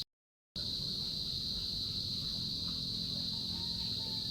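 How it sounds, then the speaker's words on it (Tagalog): Crickets chirping loudly and steadily outdoors in the Philippine countryside at night, a dense continuous high trill filling the whole stretch after a brief moment of silence, with no talk over it. "Maingay po yung mga kuliglig."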